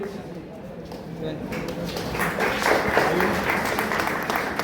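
Applause for college sportsmen at a college welcome and admission event, clapping that swells from scattered hands into a broad, sustained crowd ovation, with a voice talking over the start.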